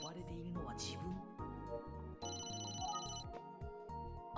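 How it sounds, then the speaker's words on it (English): Telephone ring from the Famicom Detective Club video game, a synthesized ringtone over busy game music and sound effects. "Phone call."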